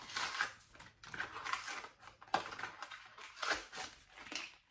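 Several sharp clicking snips from a small nail clipper trimming press-on nails, spaced irregularly, close and fairly quiet with no talking.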